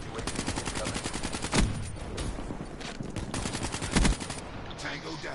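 Rapid automatic gunfire in Black Ops 3, bursts of shots rattling over continuous in-game action, with a couple of louder heavy booms cutting through; some talk may sit underneath.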